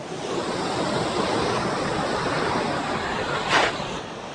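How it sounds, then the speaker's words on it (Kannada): Strong surf at Panambur Beach in Mangaluru: a loud, continuous wash of breaking waves fills the scene, with one brief swell of spray near the end and no one talking. "ಎಷ್ಟು ಜೋರಾಗಿ ಬರ್ತಾಯಿದೆ ಅಲೆಗಳು"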